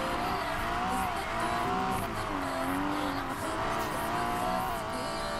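Sustained engine roar with a rising and falling whine as a car accelerates in Need for Speed Payback, dense and continuous with tire noise, synthetic and steady.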